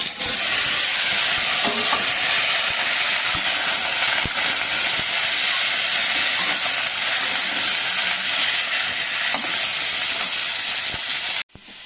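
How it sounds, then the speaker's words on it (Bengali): Fish-curry potatoes fry in hot oil, giving a loud, steady hiss and sizzle that fills the scene and cuts off abruptly at the end. "ওই তেলে মাছের আলুগুলো ভেজে নেব।"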